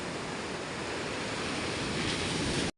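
Stormy sea waves pounding a shoreline in bad weather during a typhoon, a steady loud roar of surf close by with wind noise, continuous and without voices.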